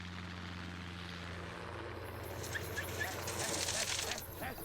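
A helicopter flying low over African bush during wildlife game capture: a steady engine and rotor drone that swells louder toward the end, with speech over the top.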